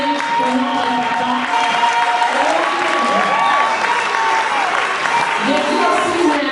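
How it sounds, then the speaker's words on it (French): A church congregation at a women's convention in Creil applauds and cheers together, steady sustained clapping with whoops and shouts, loud and close, with voices calling out over it throughout. "Est-ce qu'on peut acclamer pour notre papa?"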